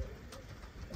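A male king pigeon coos softly while searching for a mate; the low, murmuring calls are faint and close, with no other voices.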